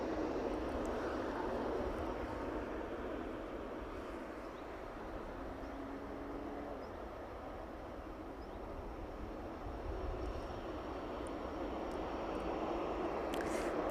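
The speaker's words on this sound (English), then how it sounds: "Logic 777 in from Delhi. Arriving into East Midlands." A Boeing 777 airliner arriving at East Midlands Airport after landing, with a steady, broad jet engine roar heard from a distance that holds level throughout as it rolls onto the taxiway.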